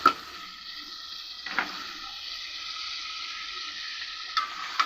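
Taro stolons fry in a pan of spiced masala with dried fish, giving a steady close sizzle with a few brief stirring clatters and no talk.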